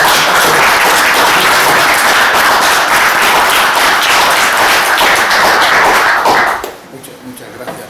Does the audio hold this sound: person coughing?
no